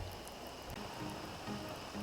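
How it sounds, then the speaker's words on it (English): Corn boiling in a pot for Trinidad boiled corn, a quiet continuous bubbling and simmering hiss with soft irregular pops, heard alone without talk. "The corn's been bubbling away for about 10 minutes."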